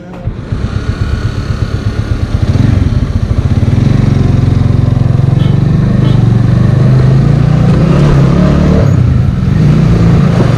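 A motorbike rides through city streets in Thamel, its engine loud and close with a steady droning note that swells as it speeds up, with background traffic noise.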